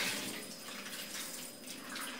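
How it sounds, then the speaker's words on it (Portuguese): Water is tipped off raw pork being rinsed in a kitchen for feijoada, a soft, continuous splashing and trickling heard close up and fairly quiet. "E vou tirando essa água assim,"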